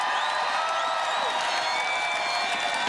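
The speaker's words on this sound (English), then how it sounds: "This crowd was eating up every minute of that" A large crowd at the Pittsburgh Penguins 2016-2017 Stanley Cup victory parade roars steadily, a dense, unbroken wash of cheering with whistles and shouts cutting through.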